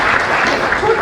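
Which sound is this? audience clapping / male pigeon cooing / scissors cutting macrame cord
audience clapping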